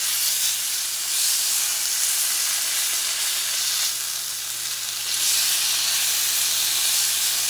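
Pork sears in a hot pan with a loud, steady sizzle and hiss that swells and eases slightly, close up and without speech.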